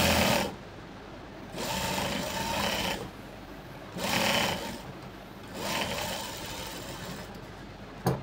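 A sewing machine stitches fabric pieces for a jacket in repeated runs, each a few seconds of steady whirring separated by short pauses, close and clear.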